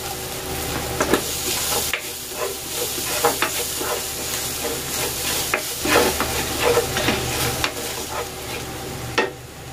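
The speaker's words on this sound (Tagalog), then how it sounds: "Magigisa na ako ng bawang." Garlic sautéing in a pan for pork ribs in tomato sauce, a continuous close hissing sizzle broken by scattered stirring scrapes and taps, with no talk.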